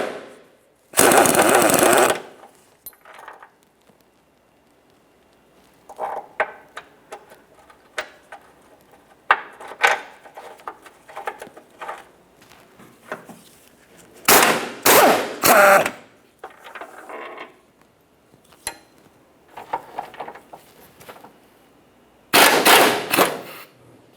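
18mm bolts come off a 2007-2017 Jeep Patriot subframe crossmember in sharp, loud bursts of power-tool hammering, separated by quieter stretches of scattered metallic clinks and handling noise.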